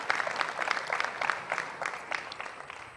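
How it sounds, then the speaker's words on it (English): An awards and closing ceremony audience claps for the guest of honor, the applause steady and moderately loud, then slowly tapering over a few seconds. "A round of applause for our guest of honor,"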